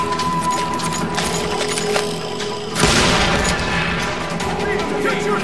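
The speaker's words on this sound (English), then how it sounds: "I was just glad I had Deputy Bob's mean-ass shotgun" Shotgun blasts in the Call of Juarez Gunslinger video game, a loud heavy boom standing out amid continuous gunfire and game noise, with a voice speaking over the action.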